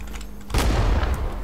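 A grenade explosion booms close by amid gunfire in the Vietnam War video game Rising Storm 2 Vietnam, a sudden heavy blast that rumbles on over scattered distant shots.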